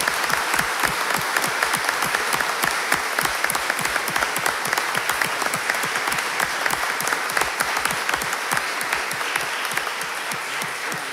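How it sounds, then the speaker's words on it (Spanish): Sustained applause fills a Supreme Court hall at a swearing-in ceremony for newly sworn lawyers: many hands clapping in a thick, even patter of sharp individual claps that keeps going for over ten seconds at moderate volume without speech. "Podemos aplaudir este logro."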